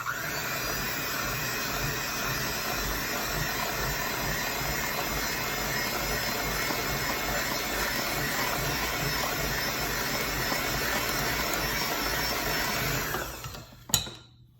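Electric mixer beating French apple cake batter, a steady loud whirring drone that runs continuously for most of the clip, then stops abruptly near the end, leaving a brief clatter.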